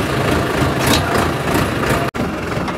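An engine runs steadily on a farm, close by, a loud and continuous rumbling drone with a brief dropout near the end.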